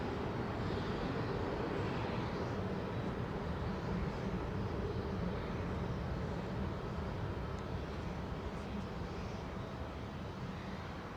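An airliner departing overhead from runway 09R at London Heathrow Airport, a loud, steady broadband jet roar holding close and constant throughout with no voices.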